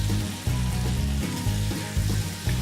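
Butter melting in a hot pan on medium heat for a Salisbury steak gravy, a close, steady crackling sizzle with soft rhythmic low bumps, no voices.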